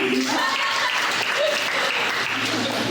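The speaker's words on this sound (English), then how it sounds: "just because I like making you guys clap if you've seen Child's Play" A San Diego Comic-Con panel audience claps loudly and steadily for a few seconds, a dense crowd applause with faint voices mixed in.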